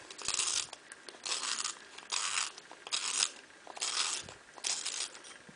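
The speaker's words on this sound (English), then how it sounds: "you're just going to sharpen the dowel." A wooden dowel end being sharpened to make a knitting needle, heard as six evenly spaced bursts of dry rasping and grinding, close and moderately quiet, with no voices.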